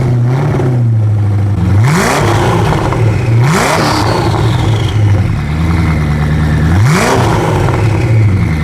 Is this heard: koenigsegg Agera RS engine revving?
yes